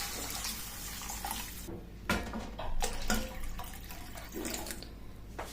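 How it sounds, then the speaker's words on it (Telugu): Water is poured into a cooking pot for a jowar flour pulusu, a continuous splashing gush that swells and rushes unevenly over several seconds, close by with no speech. "ఆ తర్వాత ఇందులోకి మనం తగినంత నీళ్ళు వేసుకోవాలి"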